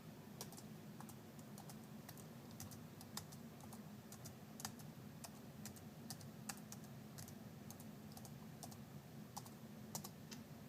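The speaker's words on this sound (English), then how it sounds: "So start typing something," Keys click steadily on a laptop keyboard, a long run of quiet, close, irregular taps with occasional slightly harder strikes over a faint background hum.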